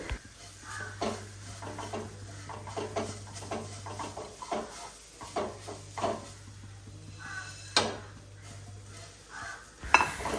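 Flattened rice (aval) and egg being mixed in a bowl: soft irregular scrapes and clinks of a utensil against the bowl, fairly quiet and close, with a low steady hum in the background.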